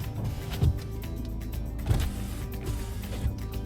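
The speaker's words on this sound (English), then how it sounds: "All the windows operate correctly." Electric windows running on a 2017 Nissan Navara 2.3 dCi Tekna automatic: a low motor whir with dull thumps as each window stops, heard close inside the cab with no talk.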